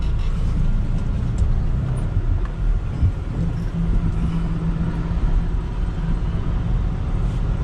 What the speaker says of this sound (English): So now we're getting ready to pull out of this Love's over here.